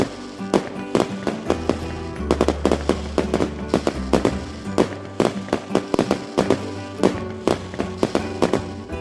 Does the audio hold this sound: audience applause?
no